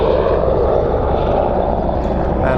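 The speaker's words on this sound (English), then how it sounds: "Looks like a military helicopter." A loud, steady military helicopter roar fills the air over the Costa Brava coast at Lloret de Mar, its engine and rotor noise droning close overhead without pause.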